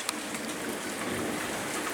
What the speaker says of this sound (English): And it's raining outside. Can you see it?